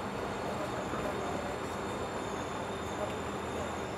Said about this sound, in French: 8 h 47, le train arrive enfin.